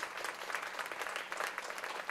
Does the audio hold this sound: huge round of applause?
yes